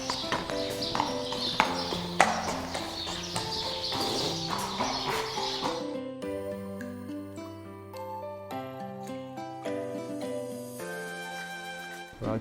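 Horse hooves clip-clop in a steady, brisk rhythm in an indoor riding arena, strongest in the first half, over sustained musical tones that continue after the hoofbeats fade.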